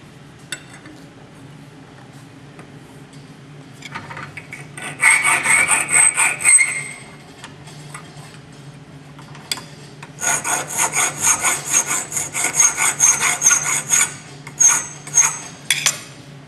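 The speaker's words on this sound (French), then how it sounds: "Rectifiez cette extrémité à la lime éventuellement" Hand file rasping across the end of a metal tube in repeated bursts of scraping strokes, first a short run of strokes, then a longer rhythmic series, close and bright with metallic overtones and no voices.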